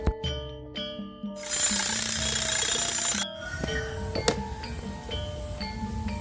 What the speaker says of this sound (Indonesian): Maka saya pasang alarm selama 5 menit.